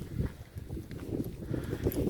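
Horses shuffling and stepping in a small car park along a coastal walk near Westward Ho and Appledore in North Devon, with soft low thuds and rustling movement close by and no talking.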